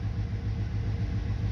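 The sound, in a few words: Cadillac Escalade 6.0 engine idling, possible hydraulic lifter knock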